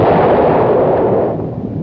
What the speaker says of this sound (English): they exploded the first atom bomb